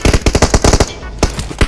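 Rapid bursts of automatic gunfire from PUBG Mobile, a fast run of about eight loud, close shots followed by a short pause and a few more single cracks.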